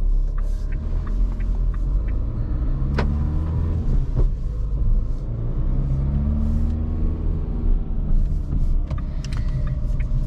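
A 2023 Dacia Duster facelift with the 1.5 dCi 115 HP diesel pulls away and drives at night, a steady loud cabin rumble and engine drone rising as it accelerates, with no talking.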